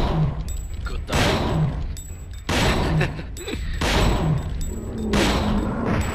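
Dino Crisis gunfire: heavy booming shots fire one after another at a steady pace, each followed by a short ringing tail, with game effects between.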